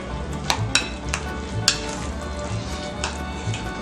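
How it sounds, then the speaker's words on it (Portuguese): Guacamole mixed with a spoon in a bowl, close wet stirring with sharp clicks of the spoon against the bowl at an irregular beat. "vamos misturar agora aqui com a colher de amendoim"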